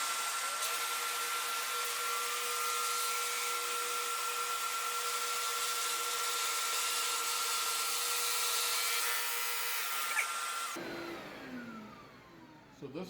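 A Flatmaster drum sander runs with a broad, steady roar as it sands wood for about ten seconds, then the motor winds down and goes quiet, heard close without speech.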